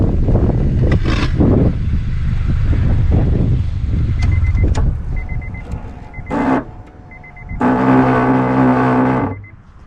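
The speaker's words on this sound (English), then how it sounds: "When I turn this car off, the antenna is supposed to retract itself down, but mine gets stuck and it makes this horrible noise" A stuck power antenna motor on an Acura Integra DC4 strains and grinds for several seconds as the car is switched off, with harsh whirring bursts and a sustained buzzing, tonal motor drone near the end.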